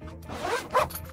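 A zipper runs around a carry-on suitcase as it is closed, two short, close rasping pulls, the second louder, with no talk.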